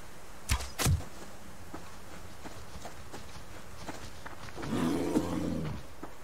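A bear in the survival game Subsistence lets out a single rumbling roar lasting just over a second, moderately loud, after a couple of sharp thuds and a quiet stretch.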